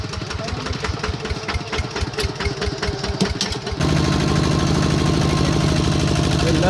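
A walking tractor's small single-cylinder engine chugs steadily at idle, close by and loud, with a rhythmic knocking beat that shifts to a denser, steadier drone partway through.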